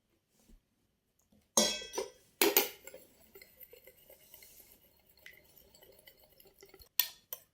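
Homemade face cream stirred in a bowl, with sharp clinks of a utensil against the dish and lighter scraping and tapping in between, close and fairly quiet.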